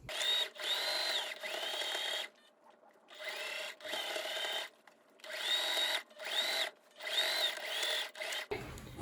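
A sewing machine runs a straight stitch through fabric for a medieval cloak in bursts of close, buzzing mechanical whirring, starting and stopping about a dozen times with short quiet gaps between runs.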